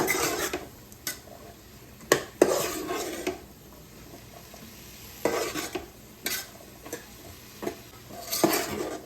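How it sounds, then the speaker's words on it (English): Soup ingredients sauté in a pressure cooker pot while a utensil stirs them in bursts, with scraping and clinks of metal against the pot over a low sizzle; the stirring comes in irregular clusters with quiet gaps. "Stir that up."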